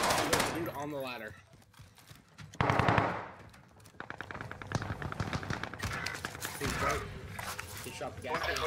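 Rapid automatic gunfire in the Warzone video game, bursts of shots rattling at moderate distance with a louder volley near the start and sustained firing later, mixed with game voices talking.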